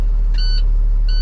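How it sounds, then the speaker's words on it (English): A box truck's warning beeper sounds twice, two short electronic beeps spaced about half a second apart over a steady low engine idle, ending in a sharp click. "I know y'all tired of this beeping noise"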